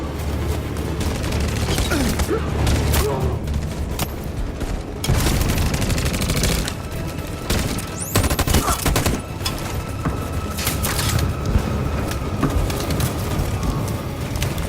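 Dense, sustained gunfire in the video game Detroit: Become Human, loud bursts and volleys in a chaotic battle with booms and mechanical clatter, continuing without pause under occasional shouted voices.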